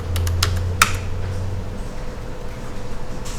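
Quick bursts of key presses on a computer keyboard as numbers are typed, a short rapid cluster of close clicks early, then quieter background hum.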